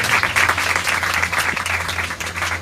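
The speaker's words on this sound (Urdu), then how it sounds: "میں چاہوں گا بیٹھ کے ہم زوردار تالیاں بجا کر خدا کے نام کو شاد دیں گے۔" A congregation at a church service claps loudly and rapidly together, a dense, steady burst of applause in a reverberant room, with a low hum underneath.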